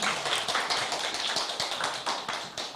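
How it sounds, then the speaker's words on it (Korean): Audience applause at a seminar for accounting exam candidates, a brief burst of many hands clapping at close range, steady and dense before tapering slightly. "박수 부탁드립니다."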